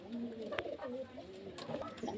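At a pigeon seller's house in Beldanga, pigeons coo softly in repeated low, throaty calls, heard faintly and close by with quiet talk around them.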